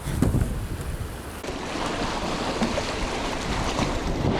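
Waves three to four feet tall on a Michigan Upper Peninsula lake pound a small boat in a steady, dense, roaring wash with wind buffeting the microphone, loud and close throughout, with no voices.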